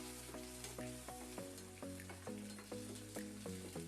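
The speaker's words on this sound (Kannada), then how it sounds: "ಈರುಳ್ಳಿ ಗೋಲ್ಡನ್ ಕಲರ್ ಬಂದಮೇಲೆ ಹಚ್ಚಿಟ್ಕೊಂಡಿದ್ದ ಕ್ಯಾಪ್ಸಿಕಮ್ ಹಾಕಿ ಚೆನ್ನಾಗಿ ಫ್ರೈ ಮಾಡ್ಕೊಳ್ಳಿ" Onion and chopped capsicum fry in a pan with a steady, bright sizzle under rhythmic plucked background music.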